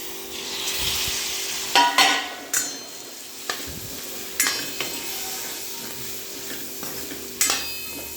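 Potato slices drop into fried masala for a spicy Marathi potato bhaji, then get stirred with a steady sizzle and a few sharp scrapes and clinks of the spoon against the pan, with no talking.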